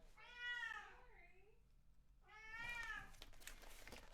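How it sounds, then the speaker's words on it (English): A cat gives two drawn-out, wavering meows a couple of seconds apart, close by, with faint rustling after the second. "Thanks for waking him up and making him meow again."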